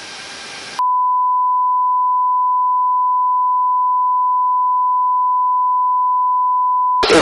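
A steady, loud, unbroken electronic tone held for about six seconds, given as a fire control radar lock-on warning aboard a Japanese Navy patrol plane targeted by a Korean Navy ship.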